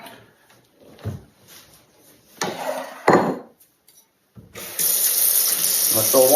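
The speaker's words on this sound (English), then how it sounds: "going to fill one up with lukewarm water" A few clinks and knocks, then a tap turns on and lukewarm water runs steadily into a bowl, close and loud, the pitch rising as it fills.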